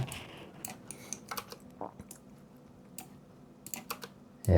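Computer keyboard keys pressed while drawing lines in 3D modelling software, giving scattered light clicks and taps, some in quick pairs, fairly close but soft over a quiet room, with no one speaking.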